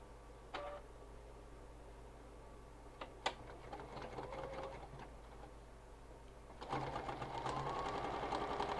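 A sewing machine runs quietly, stitching a zip-around wallet. Short bursts of needle chatter come with a few sharp clicks, then a longer, steadier run of stitching near the end.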